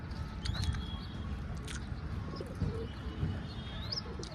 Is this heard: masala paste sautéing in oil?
no